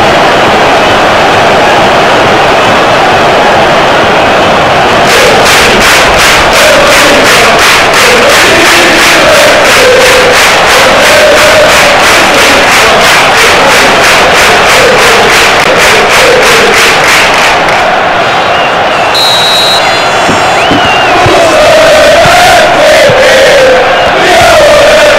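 A football stadium crowd at a Bayern versus Barcelona match, loud and continuous, a dense roar of fans swelling with rising chants and rhythmic shouting as they grow riled up.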